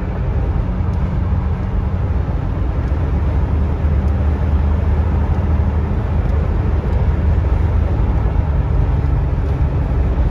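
Steady cabin roar of a 1973 Mercury Marquis Brougham cruising on the freeway: a constant low road and engine rumble with wind noise, loud and unbroken, no talking.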